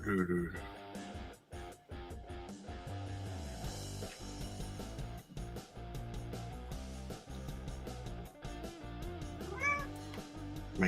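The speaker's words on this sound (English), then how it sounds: "My cat is calling my name" A pet cat meows repeatedly at close range, several drawn-out rising calls spread across the stretch, mixed with a person talking.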